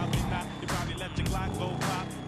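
A car in Grand Theft Auto V drives with a steady engine drone and road noise, surging in bursts, under a voice talking over it.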